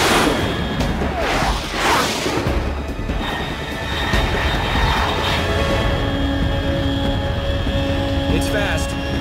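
A fast jet aircraft in Metal Gear Solid 3 roars overhead at high altitude, a loud sustained broadband rush that swells and rolls across the whole stretch under a steady hum, with a voice speaking over it.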